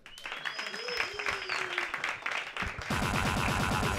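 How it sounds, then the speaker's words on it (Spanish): Audience applause at a live neighborhood comedy show mingles with an amplified voice, then loud pulsing music kicks in and takes over for the final stretch. "Fuerte aplauso para Lasaña 13."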